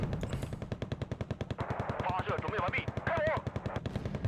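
An Su-24 bombing strike in the Wargame: Red Dragon video game sounds as a rapid, steady rattle of explosive bursts and gunfire under a speaking voice, continuous and fairly loud.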